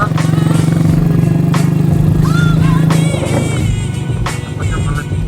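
Exhaust of a Honda Astrea Dream motorcycle while riding on village roads, a steady close engine drone that eases off partway through, with bits of talk over it.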